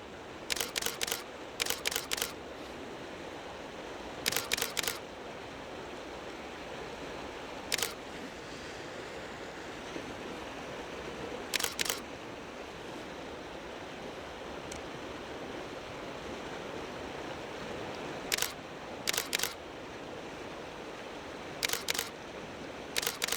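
A camera shutter clicks in short bursts while shooting a misty landscape by the Middle Provo River, sharp close clicks in pairs and clusters over a steady rush of flowing water, with no speech.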